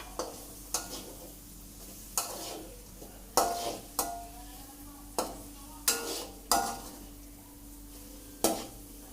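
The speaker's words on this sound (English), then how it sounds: "Let's put the piece of sausage and mix it." Sausage pieces are stirred into seasonings in a frying pan for fried rice, giving about a dozen sharp spatula scrapes and clinks at an uneven rhythm over a quiet, low sizzle.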